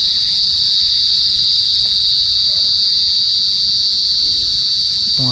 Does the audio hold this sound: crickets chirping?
yes